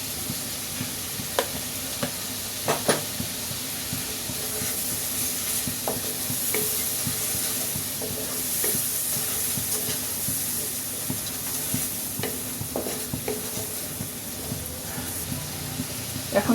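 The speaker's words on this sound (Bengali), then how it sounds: "এখন একটু লবণ দিচ্ছি, মশলাটা কষাই" Spice paste with cumin powder and salt being stirred and sautéed in a pan for an egg, aubergine and tomato curry: a steady close sizzle broken by repeated scraping stir strokes, with no voices.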